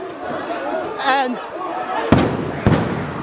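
Stun grenades detonating at a student protest outside parliament, two sharp, loud bangs in quick succession over a backdrop of crowd noise, with a person talking beforehand.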